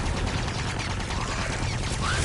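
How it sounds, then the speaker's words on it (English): A sound glitch in The Last of Us produces constantly repeating gunshots, a dense, loud, unbroken rattle of rapid fire that never lets up. "Constantly repeating gunshots."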